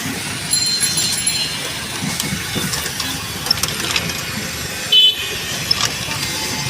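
Traffic jam in the narrow streets of Old Dhaka, a steady wash of idling engines and street noise with a brief loud horn toot near the end and a few faint clanks.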